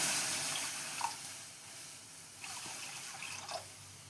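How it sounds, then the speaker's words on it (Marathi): Two small bowls of water trickle and splash softly into a cooking pot, a faint steady pour with a few brief louder spurts. "तेच वाटीमध्ये दोन वाट्या पाणी घालूया"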